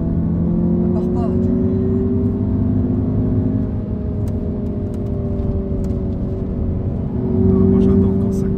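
Audi TT engine driving and accelerating on a track, a steady close drone that swells louder near the end, with people talking over it inside the car.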